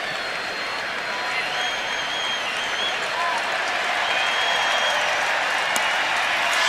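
Baseball fans in a stadium in Camden cheer as a seagull circles the field during a game, a steady wash of crowd noise and applause under a commentator's voice.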